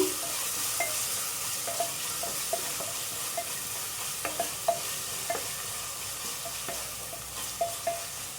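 Masala for drumstick leaf dal sizzles steadily in a pan, a soft constant frying hiss broken by light scraping stirs and occasional clinks, with no talking.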